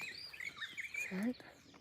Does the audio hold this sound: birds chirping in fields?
yes